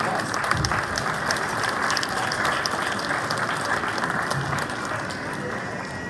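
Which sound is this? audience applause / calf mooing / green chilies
audience applause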